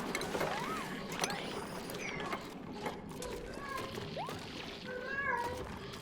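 A cat meowing in the space-colony game Oxygen Not Included, several short rising and falling mews over busy mechanical clanking and ratcheting, with a voice speaking underneath.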